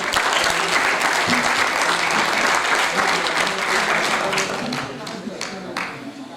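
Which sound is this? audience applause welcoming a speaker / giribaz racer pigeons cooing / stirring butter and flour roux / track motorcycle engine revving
audience applause welcoming a speaker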